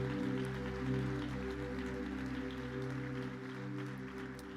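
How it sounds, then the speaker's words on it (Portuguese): A church congregation claps together, a soft, continuous wash of hands over a sustained keyboard tone that hums underneath, fairly quiet and distant. "Se é para Jesus, aplauda mais forte."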